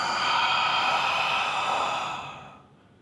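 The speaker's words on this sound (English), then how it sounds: "that's the mechanics of pranayama deep breathing" A single long, deep exhale during pranayama breathing practice, a steady airy rush of breath close to the mic that fades out at the end, with no talking.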